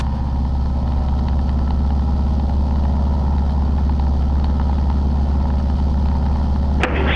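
Cessna aircraft engine running up to 30 inches of manifold pressure, a loud, steady low droning roar with a constant throbbing pulse, heard close and unbroken throughout.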